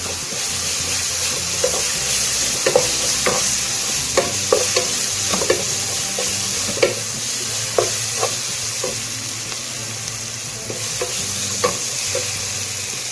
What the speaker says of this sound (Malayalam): ഇനി ഇവയൊന്ന് നന്നായിട്ട് വഴറ്റി എല്ലാം കൂടി ഒന്ന് മിക്സ് ചെയ്യാം.